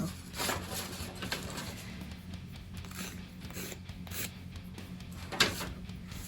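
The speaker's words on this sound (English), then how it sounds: "Let me try to sand this side now." A small plastic part from a Hasegawa 1/700 Zuiho ship model kit is hand-sanded up close. Short, quiet scratchy strokes rasp back and forth, with one sharper tap near the end.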